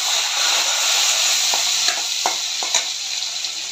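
Chopped onion fries in hot mustard oil, a loud continuous sizzling hiss punctuated by a few soft spatula taps as it is stirred; no one speaks.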